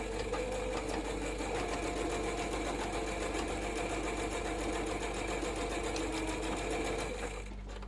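A sewing machine runs nonstop, back stitching close to the edge to close up the opening of a crossbody bag, with a steady mechanical whir that stays near and even until it slows and stops at the very end.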